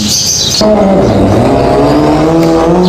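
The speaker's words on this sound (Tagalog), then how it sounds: "ito nga ay karera or drag race ng mga big bike. Bali ang maglalaban dito ay Hayabusa versus BMW S1000R" Big-bike drag racing with a Suzuki Hayabusa against a BMW S1000R: loud, high-revving engines scream close by, with a sharp burst and then steady rising revs, and no talking.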